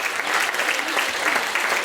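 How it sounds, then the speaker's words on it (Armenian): Audience applause for a folk ensemble at their concert in the village of M. Aragyal: dense, steady clapping from a crowd that holds at an even level throughout. "առաջարկում եմ բարձր ևս մեկ անգամ բարձր ծափարենք նրանց"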